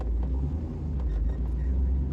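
An IROC car cruising along the road, with a steady low engine and road rumble that stays close and even throughout, with no breaks.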